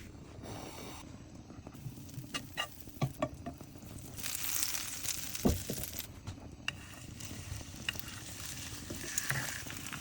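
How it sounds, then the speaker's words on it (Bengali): A burger patty frying in a pan, a soft crackling sizzle with scattered spatula scrapes and pops, fairly quiet and close, no talking. "পেটি ভাজা ডান"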